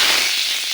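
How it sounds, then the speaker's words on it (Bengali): Radhuni seeds and bay leaves crackling in hot oil, a brief loud burst of dense, hissing sputter, close up. "দিয়ে দেব রাঁধুনি ফোড়ন, দিয়ে দিব কয়েকটা তেজপাতা"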